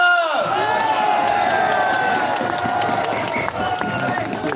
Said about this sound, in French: un tonnerre d'applaudissements pour Carlo Brusa.